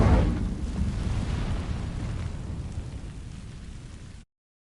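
An Incendio fire spell ignites dry vines in a video game, a loud initial whoosh settling into a steady crackling, roaring burn that slowly fades before stopping abruptly.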